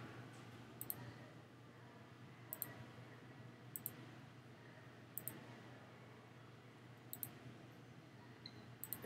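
A computer mouse clicks at a steady, spaced rhythm, single sharp clicks roughly every second or so over faint room hiss, with no talking.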